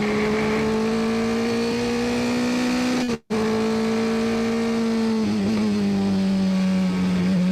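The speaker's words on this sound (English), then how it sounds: "I'll turn the noise on so we can hear you coasting into this one then." Onboard a race car coasting into a corner, the engine holds a steady droning tone that briefly cuts out, then resumes and dips slightly in pitch as the car settles, with no talking over it.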